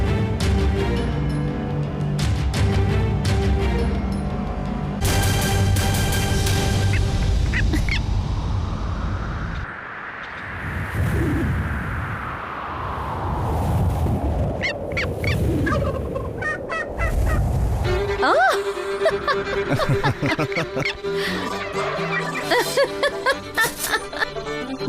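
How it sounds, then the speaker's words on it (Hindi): A customized turkey call is tested, producing loud gobbling and honking bursts with rising and falling tones over a long stretch, broken by brief pauses. "ना सिर्फ ये एक टर्की कॉलर है बल्कि एक कस्टमाइज्ड, शानदार और बिल्कुल कमाल का टर्की कॉलर है।"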